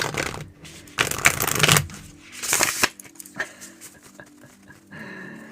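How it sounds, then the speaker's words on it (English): Tarot cards shuffled in several quick riffling bursts, close and crisp, with soft handling rustles and brief pauses between bursts. "I like the sound of the like cards shuffling"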